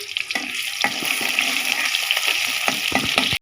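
Fish hits hot oil in a kadai wok and bursts into a loud, steady sizzle, with sharp crackles and spits popping through the close, continuous frying hiss.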